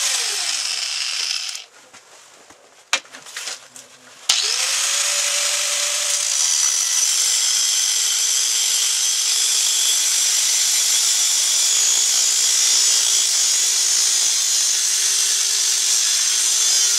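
A power tool cuts through a metal or wood part while a tractor plow is being built, starting with short bursts and then settling into a loud, sustained whining cut that runs steadily to the end.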